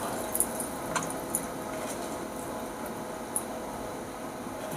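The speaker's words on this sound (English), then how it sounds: "And just straight pour that out." Cocktail poured straight into an iced Collins glass while making a Tom Collins, a quiet steady liquid hiss with a few faint clicks, no talking.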